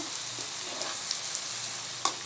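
Cauliflower florets for gobi manchurian deep-frying in hot oil, a steady close hiss of fine bubbling with a few soft pops and clinks, no talk.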